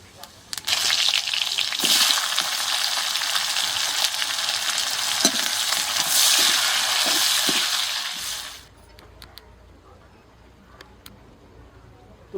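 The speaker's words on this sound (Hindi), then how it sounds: "तो प्याज को भी 2-3 मिनट भून दिए हैं।" Onions fry in a pan, a loud steady sizzle that runs for several seconds with occasional stirring scrapes, then cuts off abruptly to quieter room noise with faint clicks.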